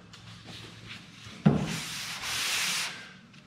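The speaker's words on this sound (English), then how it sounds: "a little bit more sanding in here, but that was just a quick rough sand" A quick, rough hand sanding of a car body panel, a close, steady abrasive rasp with one sharp knock partway through, then a longer, louder scrubbing stroke.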